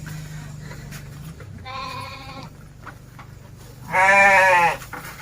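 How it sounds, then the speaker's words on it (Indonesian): Large goats bleat while being fed, two distinct loud bleats sounding close by over a steady low background hum, the second louder and longer, with no speech. "Coba ngasih makan kambing dulu"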